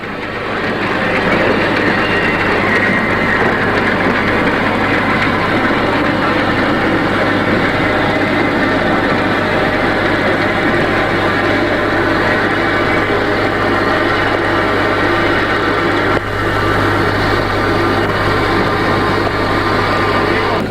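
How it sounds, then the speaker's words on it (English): An East German steam locomotive at a 1980 engine shed, uncoupling and running onto the shed, a loud, continuous rumbling roar of machinery and rail noise, close and unbroken, with a slight jolt partway through. "The loco uncouples and runs onto the shed."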